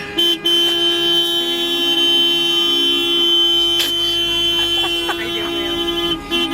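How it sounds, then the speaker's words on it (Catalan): Car horns honk insistently in the Roca del Vallès area, a steady held toot with brief breaks running through the whole stretch, loud and close, with traffic around. "Qui està pitant tant?"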